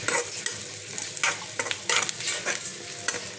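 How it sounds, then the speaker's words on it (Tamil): A spoon stirs a sizzling mix of carrot, green chilli, onion, dal, mustard seeds and turmeric in hot oil for rava upma, with repeated close scraping strokes over a steady fry. "நல்லா கிண்டிக்கிறேன்."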